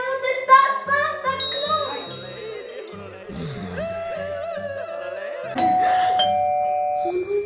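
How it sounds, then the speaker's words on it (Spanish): A doorbell rings with bright, tonal chimes over a musical backing in a children's Christmas story, the ding-dong notes standing out clearly before a sustained tone. "Sonó el timbre."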